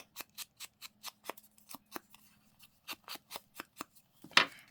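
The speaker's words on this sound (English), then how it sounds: "Just going to cut the edges off on that like so" Scissors snip the edges off paper for a handmade journal tag, a steady series of about a dozen crisp, evenly spaced cuts close by, followed by a louder rustle at the end.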